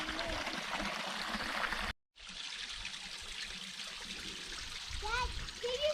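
Water cascading over white-tinted rock at the White Cascades in the Wichita Mountains, a steady close rush that breaks off for a moment and then resumes, with voices speaking faintly under it.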